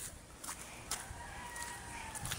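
Chickens held for slaughter cluck and crow faintly in the distance, a few scattered short calls over a soft background.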